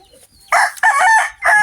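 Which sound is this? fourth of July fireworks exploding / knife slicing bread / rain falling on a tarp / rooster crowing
rooster crowing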